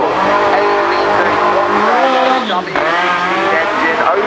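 An open-top Bugatti Mistral with its 8-litre engine climbs the hill at the Goodwood Festival of Speed 2024, its loud close engine roar rising and dipping as it accelerates and shifts, with a commentator talking over it.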